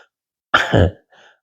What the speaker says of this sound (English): I keep clearing my throat because my sinuses are draining